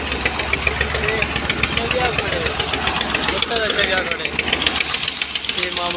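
A tractor engine runs steadily with a low knocking idle throughout, while several people shout and talk loudly over it outdoors.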